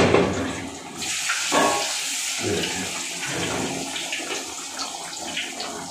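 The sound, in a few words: fish frying in mustard oil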